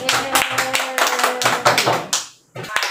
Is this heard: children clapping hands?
yes